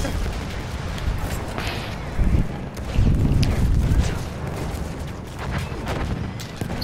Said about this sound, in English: You see that gunfire? That's the gunfire of the enemy train.